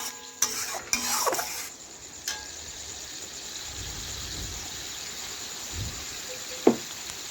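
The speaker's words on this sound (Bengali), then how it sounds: "ঢেলে দিয়ে একটু নাড়াচাড়া করে মিশিয়ে নিলাম।" Chickpeas stirred in a boiling pan: soft scraping stirs and light bubbling with a few clinks of a utensil against the pan, fairly quiet and close, no voices.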